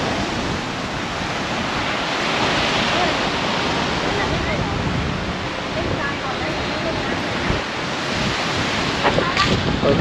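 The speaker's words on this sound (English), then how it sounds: "This is a beautiful beach. I like this. Oh wow, this is gorgeous. It's got waves too." Ocean waves break continuously on a beach in a dense, steady wash of surf, with wind buffeting the microphone and a loudness that swells slightly toward the end.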